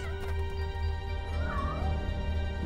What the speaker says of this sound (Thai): มีแมวดำจริงๆเหร